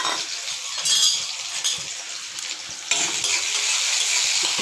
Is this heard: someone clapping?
no